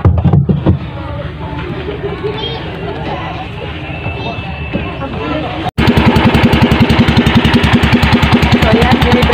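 A newly installed boat engine runs during its break-in on a fishing outing, first as a rough, busy drone and then as a loud, steady rapid chugging close by.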